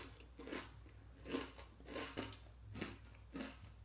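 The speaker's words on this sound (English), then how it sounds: "Are you ready for this crunch?" Someone bites into and chews a homemade plant-based protein crisp bar, producing about six close, moderately loud crunches spread irregularly over a few seconds against a low background hum.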